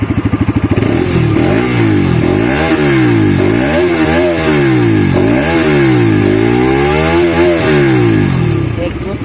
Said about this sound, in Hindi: मैं आपको इस बाइक को स्टार्ट करके इसका एग्जॉस्ट साउंड भी सुना देता हूँ